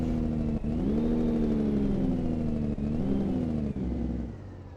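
Truck engine in American Truck Simulator revving with audible turbo whine, a sustained droning roar that rises and dips in pitch with brief gear-shift breaks, loud and alone.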